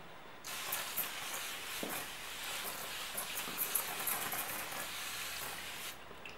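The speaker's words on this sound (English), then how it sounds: "It gives off a really fine mist." A soft, continuous hiss of fine mist sprays for several seconds, faint and close, then cuts off abruptly.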